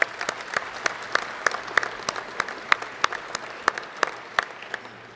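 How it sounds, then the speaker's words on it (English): Scattered, distinct claps from a small audience at the 2018 MCC athletic banquet, sounding in a loose, uneven rhythm across five seconds at moderate loudness. "let's give these guys a round of applause"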